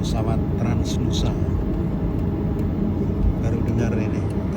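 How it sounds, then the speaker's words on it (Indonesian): Transnusa airliner at Jakarta, a steady broadband engine rumble and roar that stays constant and fairly close throughout, with faint voices underneath. "ini ada pesawat Transnusa"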